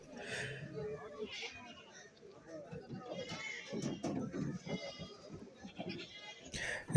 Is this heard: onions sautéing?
no